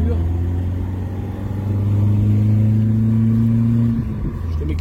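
A car's engine drones steadily while test driving, checking the gear shifts and a slightly stiff clutch, with a sustained rising tone, then a drop near the end as a gear changes, loud and close inside the cabin.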